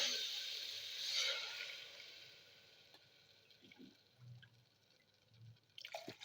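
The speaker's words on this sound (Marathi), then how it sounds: "आपण आता इथं पाणी टाकून घेणार आहोत।" Water is poured into a cooking pot of fasting-style barnyard millet (bhagar) khichdi with green chilli, a soft, steady splashing that starts the clip, then fades to faint, scattered clinks and drips.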